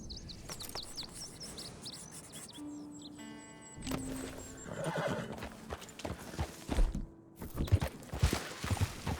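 Horses in the video game Red Dead Redemption 2 whinny and neigh several times over a steady clip-clop of hooves, with birdsong chirping in the background and louder hoof thuds toward the end.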